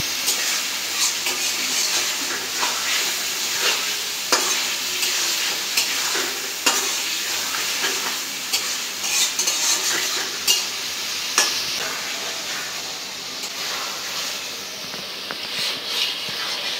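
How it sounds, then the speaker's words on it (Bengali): Stinging catfish pieces are stir-fried in an onion and spice masala in hot oil, giving a steady close sizzle with scattered crackles and the scrape of a spatula stirring through the pan. "এখন আমি মশলার সাথে মাছটা দিয়ে কষাই নিব"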